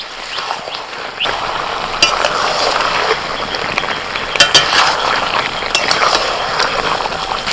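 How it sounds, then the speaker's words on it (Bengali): Meat and young green jackfruit being stirred and sautéed in a pan, a steady frying crackle with scraping spoon strokes and a few clinks of utensil against the pan, fairly loud and continuous throughout. "এবার আস্তে আস্তে নাড়াচাড়া করতে হবে ভালো করে কষিয়ে নিতে হবে"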